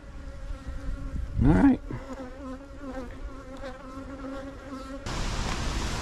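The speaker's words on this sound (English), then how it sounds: "I've never seen the bees that riled up." Agitated honey bees swarm at an opened hive, a dense, persistent buzzing up close with individual bees whining past the ear, one loud close fly-by, a brief spoken remark, and a sudden rush of broadband noise late on.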